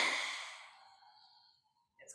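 A forceful yoga breath-out with the tongue stuck out, done during a gentle face and neck session: one loud, breathy rushing exhale that fades out over about a second, followed by a brief faint breath.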